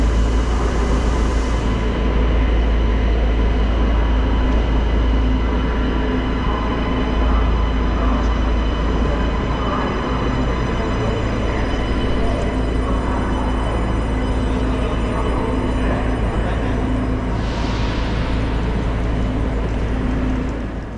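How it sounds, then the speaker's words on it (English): An SBB Giruno RABe 501 train pulls into Frankfurt main station, a loud steady low rumble of rolling wheels with faint tonal whines and brief hissing bursts, continuous throughout. "now we can take a look at the arrival of my train today"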